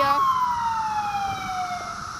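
An ambulance siren wails loudly and close, its tone gliding slowly downward in pitch over a low rumble of traffic.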